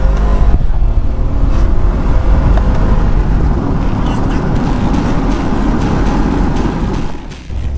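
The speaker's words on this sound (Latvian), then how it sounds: "Pastīsimies, cik ātri viņš ieskrienas līdz 100." A petrol Mercedes G63 AMG with a 5.5-litre engine accelerates hard toward 100 km/h, a loud, continuous, close engine roar with little variation that eases briefly near the end.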